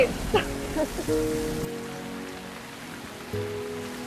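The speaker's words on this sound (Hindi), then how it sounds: "बारिश हो रही है" Rain falls outdoors as a soft, steady patter that stays fairly faint, with a few brief tonal sounds near the start and no one speaking.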